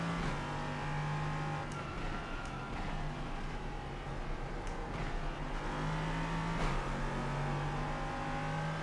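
An LMP3 race car engine in the iRacing simulator at Watkins Glen drones steadily with shifting revs and brief gear-change blips, loud and continuous without talk.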